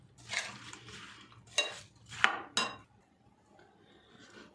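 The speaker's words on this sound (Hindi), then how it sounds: "अब ये सब कुछ मैं अच्छे से मिक्स कर लूँगी।" Fruit chaat being mixed in a bowl, with a few soft scrapes and clinks of a spoon against the dish in brief bursts, close and quiet, separated by pauses.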